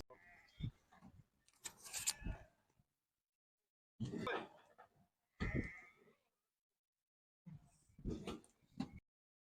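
Merino and curly-fleeced lambs bleat at a sacrificial-animal livestock market in Torbalı: several close, loud bursts of bleating come one after another, separated by short silences, with no talk.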